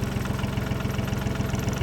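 A tractor engine running a bush hog mower, a steady mid-low rumble with a fast regular pulsing beat, moderately loud and continuous with no talk.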